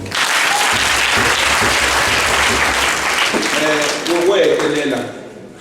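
A church congregation claps hands in sustained applause during an ordination Mass, dense and loud throughout before tapering off at the end, with a voice briefly speaking over it.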